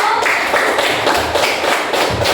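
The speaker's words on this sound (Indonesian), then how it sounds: "tepuk tangan dulu untuk kelompok 1" Classroom applause for a student group after they present a recycled-waste project, a loud continuous patter of many hands clapping throughout, with no voices over it.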